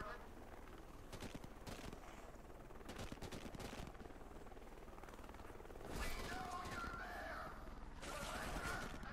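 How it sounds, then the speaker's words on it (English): Helicopter passing over in the video game Deadlight, a steady rotor drone under heavy game noise with bursts of rapid gunfire and crashes, swelling louder toward the end. "Is there another helicopter flying overhead?"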